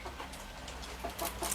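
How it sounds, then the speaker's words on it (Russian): A rooster of an unfamiliar, pheasant-like breed with a multicoloured comb clucks in a short series of soft calls on Bali, nearby with faint background noise. "я такого петуха никогда не видел"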